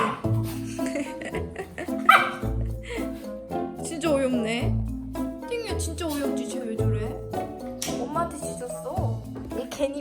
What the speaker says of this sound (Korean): 너 왜 나한테 왜 짖어?